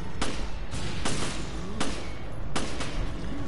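Gunshots ring out in Resident Evil Revelations, about five or six sharp, loud cracks fired at irregular intervals, each trailing into a short echo, with no talk over them.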